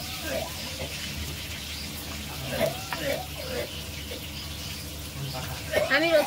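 Fish frying in a pan in a home kitchen gives a steady, close hiss of sizzling oil throughout, with a voice talking over it.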